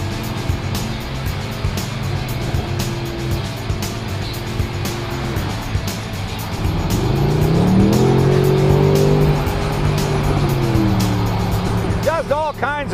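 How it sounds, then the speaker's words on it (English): A 2012 Mercedes-Benz SLS AMG Roadster accelerates hard with its exhaust roaring, the engine note rising and swelling loud and close, with a voice talking over it. "you can certainly hear that exhaust system a lot better in the convertible than you can in the gull wing"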